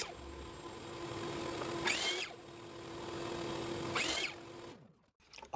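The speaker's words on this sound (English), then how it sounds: "And then to the miter saw to cut to length." Miter saw cutting a length of poplar board in a home wood shop, two loud separate cuts about two seconds apart, each a brief rising whine over a steady motor hum, ending in quiet.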